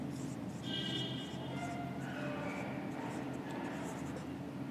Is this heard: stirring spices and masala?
no